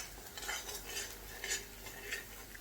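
Dodka (ridge gourd) masala ingredients stirred in an oily pan over low heat, a soft scraping rhythm of spatula strokes roughly every half second with a faint background hiss, close and gentle, no voices.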